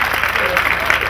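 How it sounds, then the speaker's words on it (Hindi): Audience clapping at a Hindi kavi sammelan poetry recital, a brief dense burst of close applause from a seated crowd, with a voice talking over it. "ताली बजाओ क्योंकि मेरा अपना रचा हुआ श्लोक है"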